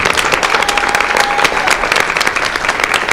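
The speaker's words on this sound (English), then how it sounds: "one final round of applause for the Jefferson Forest High School boys swim team" A school board meeting audience gives sustained applause for a high school boys swim team, loud, dense clapping that holds steady from start to finish.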